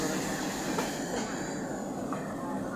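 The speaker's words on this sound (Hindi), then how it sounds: "मुरादाबाद स्टेशन आप देख सकते हैं ना, मुरादाबाद रेलवे स्टेशन उत्तर प्रदेश।" Train at the rain-flooded Moradabad railway station in Uttar Pradesh, a continuous rolling rail rumble with faint wheel noise, moderately distant and steady.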